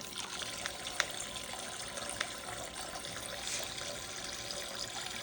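Tap water runs in a steady trickle into a sink while a cup is washed with a wet sponge, with a few faint clinks of dishes over the continuous flow.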